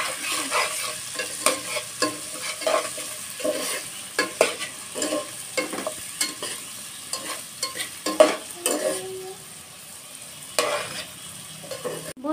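Potatoes fry in a pan while being stirred, with repeated scraping strokes of a spatula over a continuous sizzle, loud and close, easing briefly near the end.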